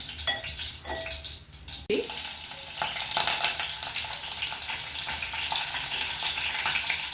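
Stuffed brinjal frying in a pan for a gutti vankaya curry, a close, continuous sizzle that briefly softens then surges louder and stays steady.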